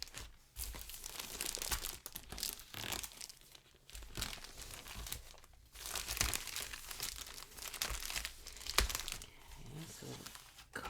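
Cardboard packaging of a NOKBOX being unpacked, with close crinkling, crumpling and tearing in irregular bursts and rustles throughout, while a voice speaks softly under the handling noise.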